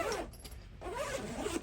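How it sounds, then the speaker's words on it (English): A zipper on a heavy-duty padded C-stand carrying bag is pulled in two quick close strokes, a faint raspy zip with a short pause between. "Find the zipper."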